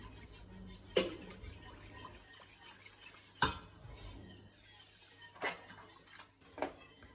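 A utensil scrapes and taps against a pan while shrimp croquette mixture is smoothed and stirred, four sharp clinks spaced a couple of seconds apart over a quiet background of soft scraping.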